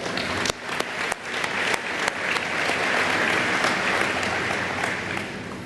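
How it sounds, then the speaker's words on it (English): Audience at an agricultural alumni fish fry gives a big round of applause, steady, full clapping with a few sharp close claps at the start, sustained for several seconds. "Let's give them a big round of applause"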